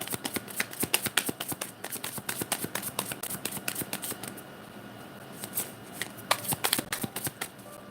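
Light Seers Tarot cards are shuffled up close in quick riffling bursts of crisp card flutter, pausing briefly midway before another flurry of snappy shuffling.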